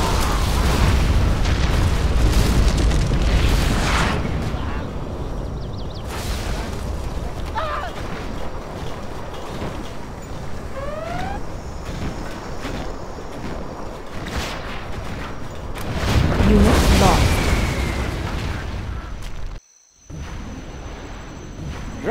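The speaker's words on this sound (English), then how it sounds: "Our Scud Storm has been launched" Scud Storm missiles strike in Command & Conquer Generals Zero Hour, producing heavy booming explosions over a continuous rumbling roar. Several big blasts swell and fade across the stretch, with a brief dropout near the end.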